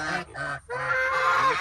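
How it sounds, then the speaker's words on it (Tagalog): Farm geese honk close by, several loud nasal calls in quick succession, the last one drawn out and wavering, with no talking over them. "Yan ang aking mga gansa."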